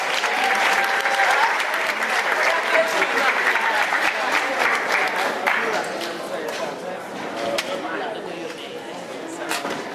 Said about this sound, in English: let's give the Imam a big round of applause